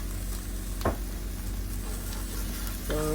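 Ground meat with garlic fries steadily in a pan, a constant close sizzle with a couple of brief scraping stirs.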